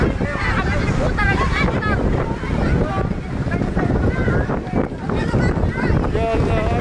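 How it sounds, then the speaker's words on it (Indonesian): Strong wind roars and buffets across refugee tents at an earthquake evacuation camp in Majene, a loud continuous gusting rush with flapping, while people shout and talk throughout. "Ya Allah, angin di pengungsian sangat kencang."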